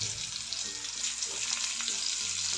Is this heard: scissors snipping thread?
no